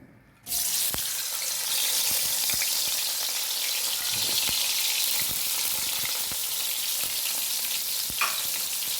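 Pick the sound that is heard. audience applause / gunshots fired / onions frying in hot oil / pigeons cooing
onions frying in hot oil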